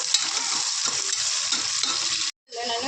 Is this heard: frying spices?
yes